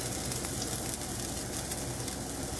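Meatballs sizzle and spatter in a hot frying pan, a dense, steady, close crackle that holds evenly throughout with no talking.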